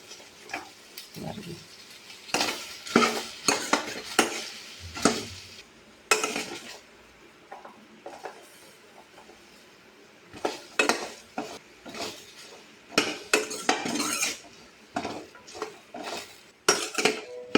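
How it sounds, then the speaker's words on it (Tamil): Okra being dry-sautéed in a pan with no oil, a spatula scraping and clattering against the metal in uneven bursts over a faint sizzle, close and fairly loud. "வெறும் கடாயில் இந்த மாதிரி வெண்டைக்காயை போட்டு வதக்கினோம்னா"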